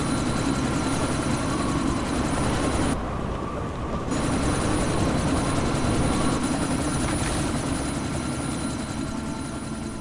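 A helicopter in Deus Ex Mankind Divided gives a loud, steady rotor and engine roar amid a howling sandstorm, briefly dipping before resuming for the rest of the stretch.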